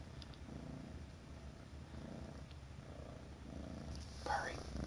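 A cat's soft, continuous low purr rumbles close by under quiet talk, steady throughout with a faint rhythmic pulse.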